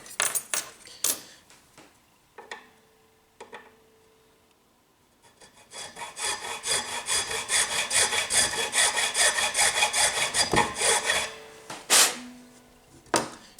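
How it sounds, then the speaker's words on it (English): A bone nut slot on an acoustic guitar being filed, first in a few short separate strokes, then in a long run of quick back-and-forth rasping strokes, close and clear, with no voices. "we can continue working the nut slot down."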